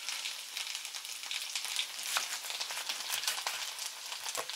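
Pork heart fries in oil in a pan, giving a steady, fairly quiet sizzle and crackle with frequent small pops throughout, heard close and without voices.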